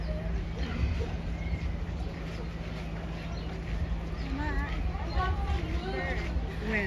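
Birds chirp in a series of short warbling calls at African Lion Safari park, over a steady bed of outdoor background noise and murmuring crowd.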